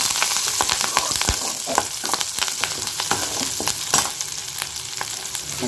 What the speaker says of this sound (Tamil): கருவேப்பிலை சேர்த்து நல்லா வதக்கிக்கலாம்